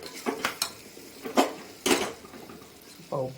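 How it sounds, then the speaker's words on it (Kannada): A spoon stirs rice around a cooking pan for tomato bath, giving several short scraping clinks and a soft gritty swish, close and fairly quiet, with no talk. "ಚೆನ್ನಾಗಿ ಅಕ್ಕಿನ ಬಾರಿಸ್ಕೊತಾ ಇದ್ದೀನಿ"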